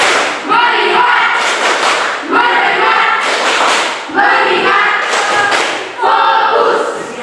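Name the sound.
class doing a rhythmic focus clap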